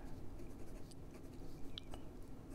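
A Hongdian N8 fountain pen with a stiff Chinese steel extra-fine nib writes on paper, giving a soft, faint, continuous scratching with a few small ticks over a quiet room background.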